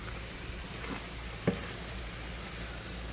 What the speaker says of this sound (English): we're gonna stir everything around